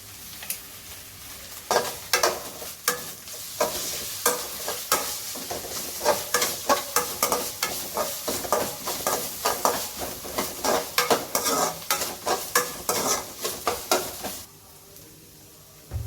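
Onions fry in a pan, sizzling steadily under a rapid run of scraping stirs that click and rasp against the metal before stopping near the end.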